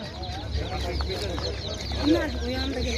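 Chickens cluck in the background at a poultry market with soft, scattered calls over a steady low hum, while people talk nearby.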